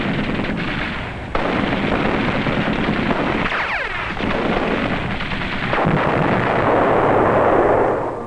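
Naval bombardment artillery fire in a 1944 wartime setting, a dense continuous roar of blasts and rumbling detonations, loud and sustained with no speech.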